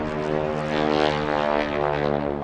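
A World War II T-6 warbird's radial propeller engine drones steadily and loudly in flight at the Reno National Championship Air Races, a continuous rich harmonic roar with a slightly wavering pitch.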